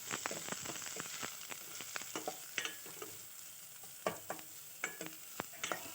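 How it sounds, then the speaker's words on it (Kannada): Onions and green chillies fry in a pan with a steady sizzle, broken by repeated sharp scrapes and taps of a spoon stirring, close and fairly quiet. "ಈರುಳ್ಳಿನ ಆ್ಯಡ್ ಮಾಡಿ ನೆಕ್ಸ್ಟ್ ನಾವು ಅದನ್ನು ಚೆನ್ನಾಗಿ ಫ್ರೈ ಮಾಡಬೇಕು."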